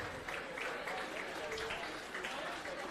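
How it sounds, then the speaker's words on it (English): Steady applause from a crowd at a county 4-H fair dairy show, clapping for a senior showmanship group, sustained and fairly even for the whole stretch with a faint voice underneath. "Let's give this senior group a really nice round of applause."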